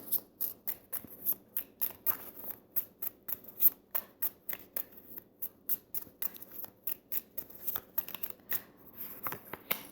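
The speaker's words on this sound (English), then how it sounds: "Let's pull some cards from Lenormand for Cancer." Lenormand cards being drawn and handled from a deck, a steady run of crisp, quick card snaps and slides repeating close up with no talking.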